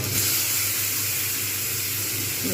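Vegetables and spices frying in a pan for paneer, a loud, steady, close sizzling hiss that continues without pause.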